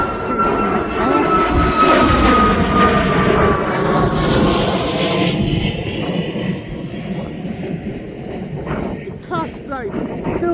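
A passenger jet taking off at East Midlands Airport, a loud sustained engine roar with a whining tone that slowly fades into the distance, with voices talking over it.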